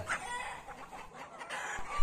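Elba hens cluck steadily close by, a busy, continuous farmyard chatter with a few sharper calls.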